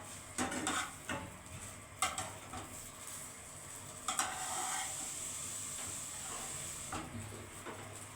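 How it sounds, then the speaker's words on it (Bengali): Bread sandwich with potato filling frying in butter over a low flame, a steady soft sizzle broken by a few clinks and scrapes of a spatula against the pan, nearby and moderately quiet. "সুন্দর হালকা আঁচে ভাজবে"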